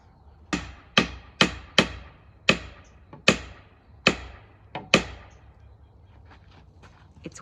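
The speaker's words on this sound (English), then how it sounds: "He's coming with a hammer." Hammer striking a dead standing tree, about nine sharp, resonant knocks at a steady, roughly once-per-second rhythm, close and clear, followed by quiet.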